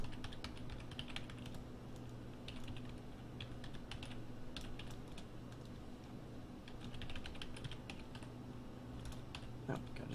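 Fast clicking keystrokes on a computer keyboard come in short flurries over a steady background hum, with a voice talking at times during a Pokémon stream.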